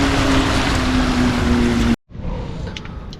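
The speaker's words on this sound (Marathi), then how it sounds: "तर सुझुकीचं इंजिन आहे 6 HP 4 स्ट्रोकचं आहे बघा" A Suzuki 6 HP four-stroke outboard engine on a small fishing boat at sea runs steadily and loud with a constant drone and wind noise, then cuts out abruptly, leaving quieter water and wind sounds.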